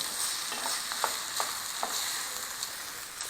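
Hungarian garlic meatballs fry and brown in a pan, giving a steady close sizzle with a few light clicks and scrapes from stirring.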